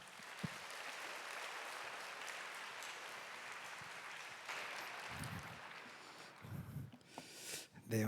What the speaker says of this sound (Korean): 홍정호 목사님 나오실 때 큰 박수로 환영해 주시기 바랍니다.